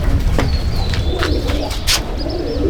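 Fulsira pigeons cooing in a large Andhra pigeon loft, throaty repeated coos close by over a low background hum, with some faint chirps between them.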